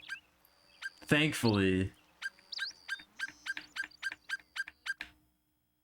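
Bird calls and nature ambience play in the video game Alkemilia's Rose-Tinted Wonderland: a few warbling, chirpy calls near the start, then a steady run of short, evenly spaced chirps, with someone talking briefly.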